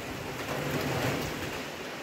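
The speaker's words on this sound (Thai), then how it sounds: "ฝนตกพี่น้องเอ้ย" Steady rain falls outdoors during a day-long rainy spell, a dense, even hiss of drops on surfaces with no talking.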